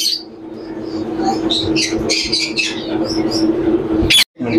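Sun conure parrots in a bird shop, a rapid series of shrill squawks and chirps over a steady background hum, close and loud, with a final sharp burst.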